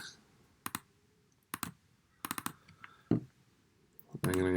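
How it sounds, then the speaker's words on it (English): A computer mouse clicks sharply several times, in quick pairs and singles spread across a quiet background, with a louder rustling sound at the end. "So I'm going to double click."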